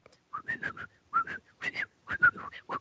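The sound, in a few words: imitated high-pitched whistling chirp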